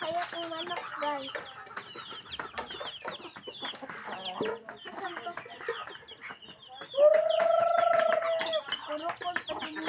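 Several pet chickens cluck steadily nearby, and one long drawn-out call rises loudly near the end over the flock's chatter.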